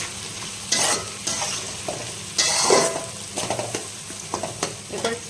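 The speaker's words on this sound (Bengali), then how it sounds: "এখন আমি কাজু কিশমিশগুলো সবজির সঙ্গে একটু ভালো করে ভেজে নেবো" Cashews and raisins fry with vegetables in a pan, a close sizzle under bursts of stirring scrapes and light clinks of a utensil against the pan, with no one talking.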